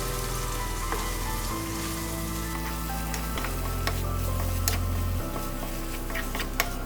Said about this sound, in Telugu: సో ఈ ప్రాన్స్ బాయిల్ చేసి పెట్టుకున్న ప్రాన్స్ దీంట్లో వేసేసుకొని హ్యాపీగా ఫ్రై